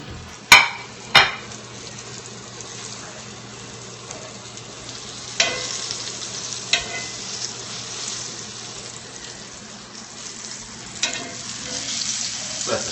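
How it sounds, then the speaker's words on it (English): Breaded eggplant fries shallow frying in olive oil, a steady close sizzle running the whole time, broken by a few sharp clatters and scrapes as pieces are flipped, with no voices. "This is a shallow fry in olive oil."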